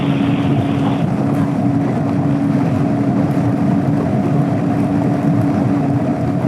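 A scooter engine drones steadily at wide open throttle while climbing a hill on a Texas road ride, loud and constant, with heavy wind rush over the microphone and no talking.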